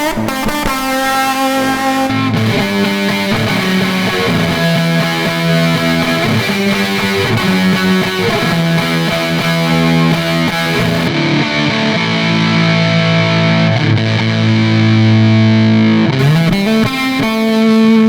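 An electric guitar runs through a Cuvave Fuzz pedal and amp sim with EQ and compression, producing a thick, buzzy, fuzzed-out tone as it plays a continuous melodic passage of sustained notes and chords for a long stretch, with no talking.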